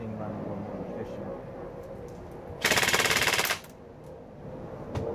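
An airsoft gun fires on full auto at about 17.76 rounds per second, around 410 FPS, in a single loud, rapid burst of roughly one second over steady background noise.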